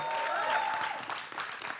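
An audience at a special fan screening of Raanjhanaa claps and cheers for a brief, dense burst of applause, loud and close, fading slightly at the end.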